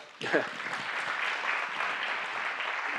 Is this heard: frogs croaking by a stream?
no